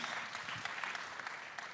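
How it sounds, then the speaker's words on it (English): A fairly faint, short burst of steady clapping comes from an audience at a talk on leadership in AI. "Round of applause, please."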